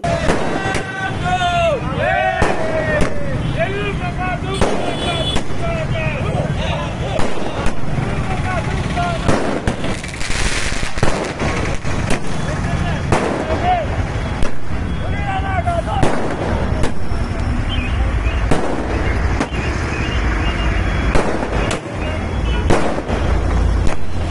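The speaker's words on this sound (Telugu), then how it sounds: "శనివారం ఆర్మూరు పట్టణంలో చైర్పర్సన్ అభిమానులు టపాకాయలు కాల్చి సంబరాలు చేసుకున్నారు." Firecrackers set off by supporters celebrating in Armoor town, with repeated sharp bangs and crackling bursts over a noisy crowd and nearby voices throughout.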